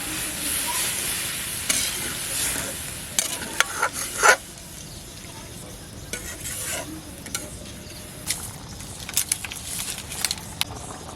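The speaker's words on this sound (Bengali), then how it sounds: "একটু নাড়া দিয়ে দিই।" A spoon scrapes and stirs through a sizzling pan of snakehead fish curry after water is added, with scattered clicks and knocks over a steady bubbling hiss.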